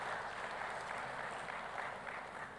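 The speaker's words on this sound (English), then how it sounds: "So let's give a round of applause, Madam President, as she exits the room." A conference hall audience at a food systems summit applauds as a president leaves the room, a steady, even patter of many hands heard faint and distant.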